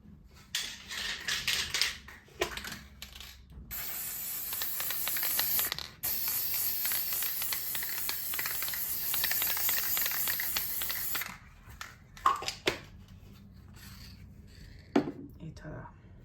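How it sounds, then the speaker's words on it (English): A spray can hisses over a finished chalk and pen artwork, with a few short bursts and then one long, steady hiss lasting about eight seconds, close to the microphone. "Just spray it"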